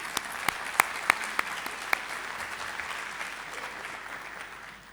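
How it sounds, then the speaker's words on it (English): Audience applause after a health-education lecture, opening with a few sharp distinct claps that settle into a steady, moderately loud wash of clapping that fades slightly toward the end. "give yourself a round of applause for all the work you did"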